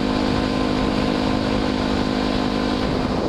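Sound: loud motorcycle engine while riding

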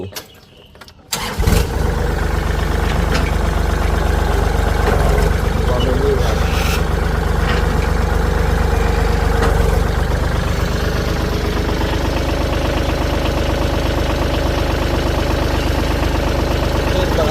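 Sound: Kubota L3608 tractor three-cylinder engine starting and idling

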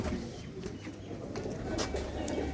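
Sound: pigeons cooing

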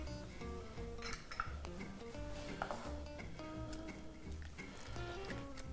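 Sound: egg being mixed into dough in a bowl

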